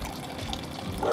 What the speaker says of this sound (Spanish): Vamos a tomar agua de aquí.